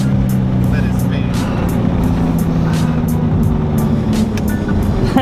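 An Infiniti G35 with a newly installed Z1 transmission mount runs in gear with its wheels spinning, giving a loud, steady low engine drone and drivetrain whine with faint clicks throughout.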